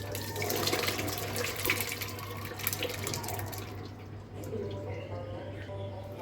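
Cooked homemade tomato sauce pours into a strainer with a steady, close liquid splashing and gurgling that softens and thins toward the end.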